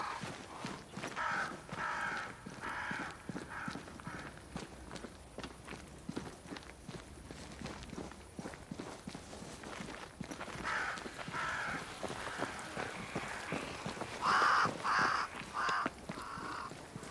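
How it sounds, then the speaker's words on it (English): Crows cawing in the eerie woodland of Banishers: Ghosts of New Eden, a few harsh calls rising late against a steady crunch of footsteps trudging along. "Crows. They flock to that great tree up there."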